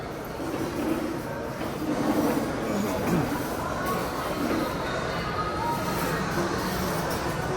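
A train travels along the rails with a steady rumble and faint wheel rattle, heard from inside the carriage, with voices murmuring quietly under the noise.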